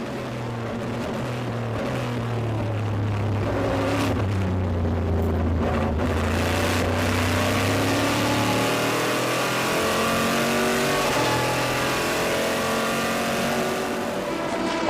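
Aston Martin and Corvette race cars at the 24 Hours of Le Mans, braking into the PlayStation chicane on the Hunaudières, loud engines roaring and shifting pitch continuously as the cars pass close by.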